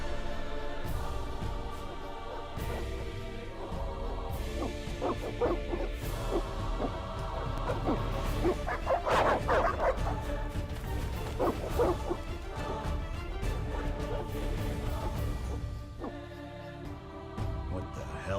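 Evil dogs in the video game The Witcher barking and yipping amid a dense mix of music and game effects, a cluster of sharp bursts building in the middle and continuing intermittently.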